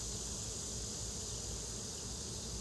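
Dense, continuous buzzing from many honeybees at an open hive during inspection, an even high drone that holds steady without pauses.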